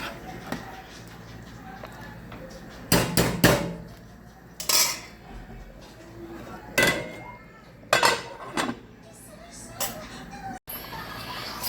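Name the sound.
stirring chicken pelau in a pot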